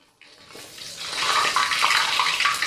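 Steady sizzling and crackling of fish frying in hot oil, rising quickly and holding loud and close.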